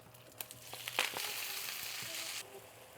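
Spinach sizzling in a frying pan as more of it is added, a steady crackling fry with a few sharp pops, then fading toward the end.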